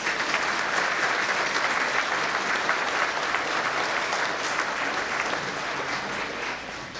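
Audience at a December nursing pinning ceremony giving the faculty a round of applause, a loud, dense wash of clapping from a large crowd that holds steady and eases slightly toward the end.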